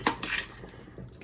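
Spoon stirring okro white vegetable soup in a metal pot, a few sharp clinks of utensil against the pot followed by softer scraping, close and brief.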